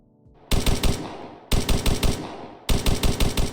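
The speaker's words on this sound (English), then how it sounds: "the sound effects are quite interesting currently for an automatic weapon" Three loud bursts of rapid automatic gunfire in a Roblox dungeon game, each a quick rattle of several shots separated by short pauses, with no voices.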